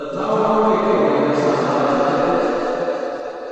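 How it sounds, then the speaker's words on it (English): Speech inside a simulated Tower of Babel smears into a dense, washed-out reverberant blur, continuous and fairly loud with no words distinguishable. "setting up reverberations that scrambled speech until it was unintelligible"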